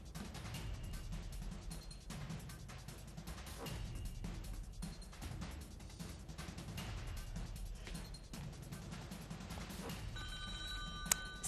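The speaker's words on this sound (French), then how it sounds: "Ça sonne. Allô?" A telephone bell rings on a Swiss French-language TV game show set amid steady studio room noise, sounding moderately close and continuous with a sharp clatter near the end as the receiver is picked up.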